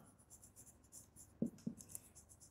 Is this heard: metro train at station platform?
no